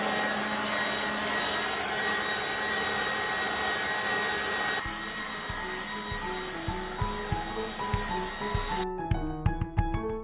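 A battery-powered garden leaf blower runs with a loud, steady whirring roar, then drops in level partway through, and a series of light knocks and clicks follows toward the end.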